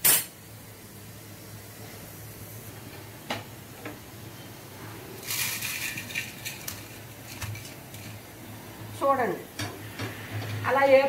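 Ingredients for a prawn-shell chili powder are roasted and stirred in a pan, with soft ticking scrapes and a faint, intermittent sizzle, fairly quiet, with someone talking between the stirs.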